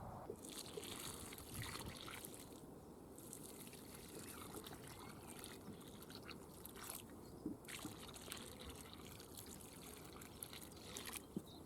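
Water trickles softly and steadily while Uchiki Kuri squash plants in a UK garden are watered. The quiet, continuous dribble goes on for several seconds without pause, and no voices are heard.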